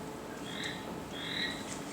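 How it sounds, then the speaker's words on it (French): Toads croak in a quiet outdoor night setting, two drawn-out trilling calls rising over a steady low background hiss, moderately distant and fairly faint, with no voices. "Ça peut aussi être les crapauds."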